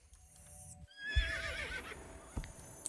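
A horse whinnies in the Star Stable video game, a clear, fairly close neigh with a rising then falling tremolo, preceded by a brief soft thump and followed by a light hoof-like tap.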